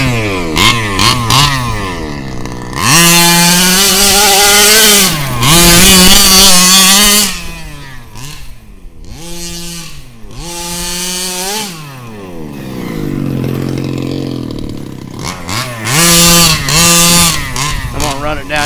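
A Redcat Rally XR RC car fitted with a Rovan 36cc gas engine revs hard in loud, rising and falling bursts with brief idle gaps between throttle blips, the buzzing two-stroke pitch climbing as it winds out.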